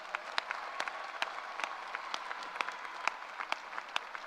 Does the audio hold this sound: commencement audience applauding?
yes